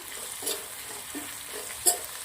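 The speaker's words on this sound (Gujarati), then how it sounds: "હવે આપણે સરસ ભીંડાને તેલના અંદર લાળ બળે ત્યાં સુધી સાંતળવાનું છે।" Okra (bhindi) being sautéed in hot oil with salt, a quiet low sizzle with a few soft stirring scrapes around the half-second, one-second and two-second marks, with no talking.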